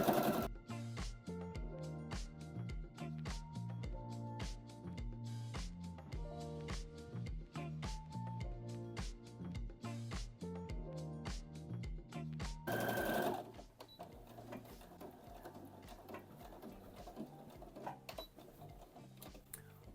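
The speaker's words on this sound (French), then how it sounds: "Et c'est parti pour la couture d'ourlet." A home sewing machine stitches a hem on a Burda top, running in a fast steady mechanical rhythm for about thirteen seconds, then stopping and leaving faint handling rustle.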